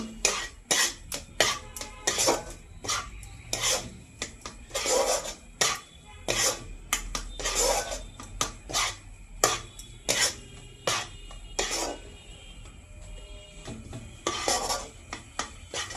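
A spoon scraping and stirring semolina with chopped raisins as it dry-roasts in a pan for chandrakala sweets, steady repeated metallic scrapes and clinks, close and moderately loud, with no talking.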